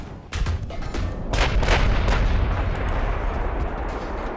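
Heavy warship guns boom in the naval video game Ultimate Admiral Dreadnoughts, several loud overlapping blasts rolling into a continuous low rumble with no speech.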